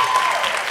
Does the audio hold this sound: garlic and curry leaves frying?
no